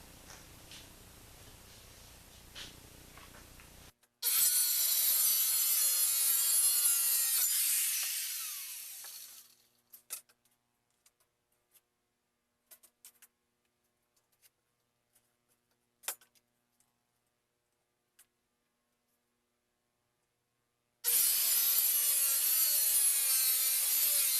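A saw rips a wooden board lengthwise to width for a barn door, a loud harsh continuous cutting roar for about six seconds that winds down, followed by scattered clicks and near silence, then the cutting roar resumes loudly near the end.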